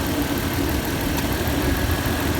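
A 2021 Toyota 4Runner engine idles steadily under the open hood, a loud, even rumble with no other sounds standing out.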